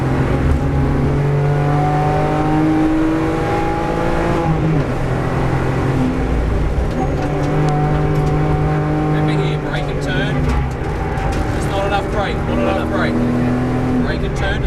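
Car on a race track during a track-school session, engine revving up and down through braking and acceleration, loud and close inside the cabin, with an instructor's voice talking over it.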